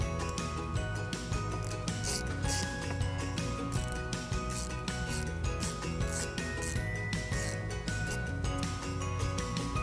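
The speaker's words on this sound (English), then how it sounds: "It's a 10 millimeter socket to remove it." A ratchet with a 10 millimeter socket loosens a battery nut on a 2011 Jeep Liberty, giving rapid, repeated close clicking in quick bursts throughout, with no voices.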